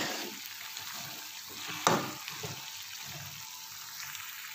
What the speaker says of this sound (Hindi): अब हम इसको अच्छी तरह मिक्स करते हैं